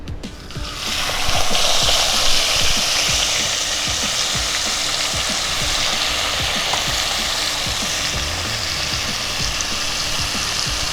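Hilsa fish fries in a pan with sour yogurt just added, a loud, steady, close sizzle with bubbling and crackle that holds throughout, and no voices.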